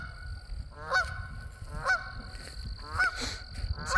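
Goose honking by a pond, a series of three or four loud rasping honks spaced about a second apart, close and outdoors over low rumbling background noise.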